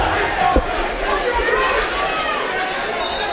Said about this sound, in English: A lot of oohs and ahs from the crowd.